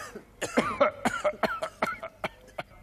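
A series of sharp, repeated coughs from a sickly character in a German children's series, about a dozen close bursts in an uneven rhythm, loud and near with no talk.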